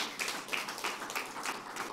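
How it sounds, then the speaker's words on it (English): Light, steady clapping from a conference audience, rhythmic claps repeating every few tenths of a second, quiet and slightly distant, with no talking over it. "So please give a round of applause for the name."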